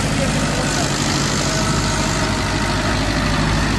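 A tractor engine idles steadily and loudly at close range while the tractor runs in GPS automatic steering mode, with a constant low rumble and no pauses.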